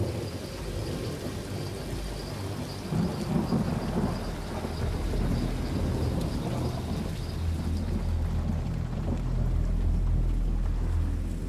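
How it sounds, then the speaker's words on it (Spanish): Steady rain pours down while deep thunder rumbles and rolls continuously, growing heavier and lower toward the end, with no voices. "y luego esto, una tormenta."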